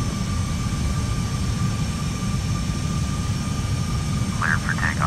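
A Boeing 747-400 jet airliner on the runway gives a steady, loud engine roar throughout, with faint radio-style voices heard briefly near the end.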